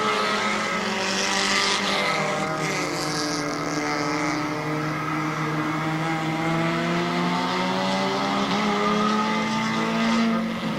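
Compact race cars roar around an oval at Barberton Raceway Park, several engines droning and rising in pitch together, loud and continuous with shifting whines as they pass through the turns.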